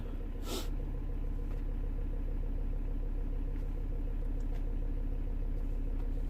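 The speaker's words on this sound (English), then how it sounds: "Was a change on the engine tone for some reason" A 2.0-litre diesel engine in a Volvo V70 D3 runs steadily at close range after turbo and EGR replacement, with a constant low rumble and a brief hiss or click near the start.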